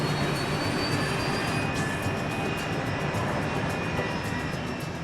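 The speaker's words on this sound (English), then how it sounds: "they're piloting a British-built BAE 146 commuter jet. With quiet turbofan engines" A British-built BAE 146 commuter jet with quiet turbofan engines, giving a steady, continuous roar and whine that holds at an even loudness throughout, with no voices over it.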